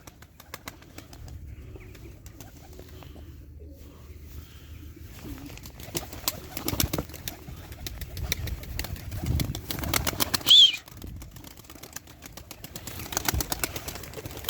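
Young tumbler pigeons coo softly while wings flap and clatter in bursts, with a busy, close-up rustling throughout.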